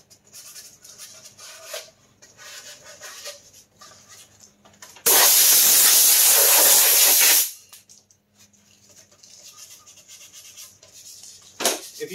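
Compressed air blasts dust off a 3D-printed part in one loud, steady hiss of about two seconds. Quieter handling noises come before and after it.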